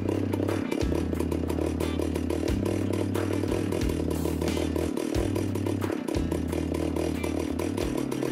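A vintage Stihl 038 Magnum chainsaw runs close and loud with a rough, uneven idle, its engine note surging and dropping in repeated pulses while the carburetor idle is adjusted.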